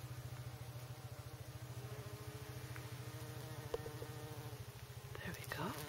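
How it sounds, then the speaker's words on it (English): A small bee buzzes among wild roses in a permaculture garden, a close, steady, low droning hum that pulses gently throughout, with faint rustles and a brief soft tap partway through. "And I think there's a little bee in there."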